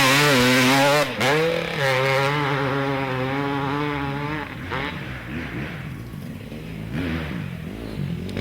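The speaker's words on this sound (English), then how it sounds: "He's got that 2-stroke singing right now, and he is on the gas hard." Two-stroke racing motorcycle engine at full throttle during a 2013 Action Sports GP pro-class race, a loud, close, high-pitched wail with steady harmonics that dips briefly, then holds before fading into rougher, shifting engine noise.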